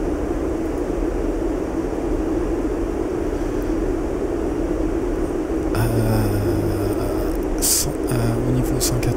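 A PMDG 737-800 descends in a flight simulator game, giving a steady airy engine and airflow rumble, with someone talking over it and brief cockpit tones near the end.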